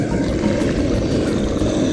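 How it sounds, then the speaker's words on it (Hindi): A wild animal roars in a 2D animated cartoon: a loud, rumbling growl that fills the brief moment on its own with no speech. "चौंक गया एटम जब सुनी उस जानवर की दहाड़"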